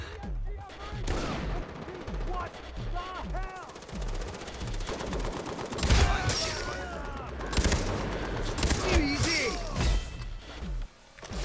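Automatic gunfire in the co-op shooter Far Cry 3, with rapid bursts and single shots repeating steadily over about eleven seconds, plus a few louder impacts, while voices speak over the game.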